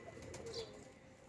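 A young Western pigeon coos softly close by, a faint, brief murmur in a quiet setting.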